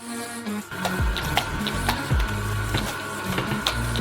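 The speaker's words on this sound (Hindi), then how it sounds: "इसे चक्की के तश्तरी में डालते हैं और इसे कीमे में मोड़ेंगे।" A meat grinder on its finest grid churns steadily through a salted mass, its motor droning under repeated low grinding surges and scraping, close by with no voices.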